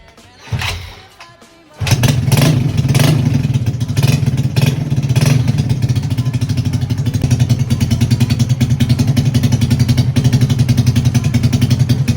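A Yamaha Mio scooter fitted with a cheap racing exhaust starts after a brief low rumble, then idles and revs steadily with a loud, rapid, buzzy exhaust pulse close by, no talk over it.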